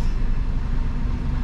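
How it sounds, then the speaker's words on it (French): A car goes by on a street in the northern districts of Marseille, a steady low rumble of traffic noise filling the moment, fairly loud and close, with no talk over it. "La voiture, on va la laisser passer."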